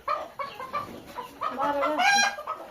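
Hens and roosters on a small poultry farm cluck repeatedly close by, short choppy calls overlapping in a busy run.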